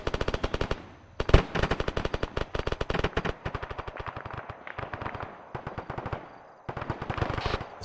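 Rapid automatic gunfire from a video game firefight, loud bursts of repeated shots with brief pauses between volleys, continuing throughout with no talking.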